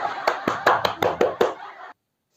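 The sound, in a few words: applause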